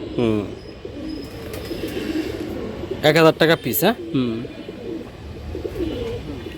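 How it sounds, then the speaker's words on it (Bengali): Giribaz pigeons at a sale coo softly in the background while people talk and bargain nearby, with a few sharp taps. "এখানে কয়েকটা বেস্ট কোয়ালিটির কবুতর আছে"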